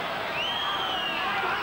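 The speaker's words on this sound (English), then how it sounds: "The main thing, the crowd really liking this bout, and why shouldn't they?" A crowd cheering and whooping during a professional wrestling bout between Pete Roberts and Marty Jones, a continuous roar of voices with rising and falling shouts in a large hall.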